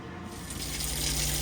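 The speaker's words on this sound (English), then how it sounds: "Here we've got the hot water running." Hot water runs from a tap in a 2022 Auto-Trail Tribute F62 motorhome, a steady close hiss and splash that grows slightly louder over a brief moment, with no voices.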